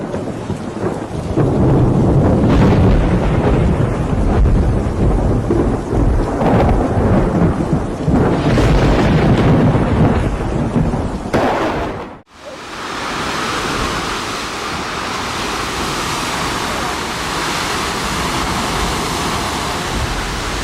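Roaring, rushing wind and waterfall spray blown across a road in India sound loud and close, a dense constant wash with gusty surges, changing abruptly to a steadier hiss midway.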